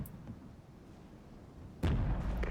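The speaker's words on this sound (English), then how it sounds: "artillery over there" Artillery fire in the Regiments war video game: a low rumble of distant battle gives way to a sudden heavy, sustained boom near the end, loud and broadband, with no talk.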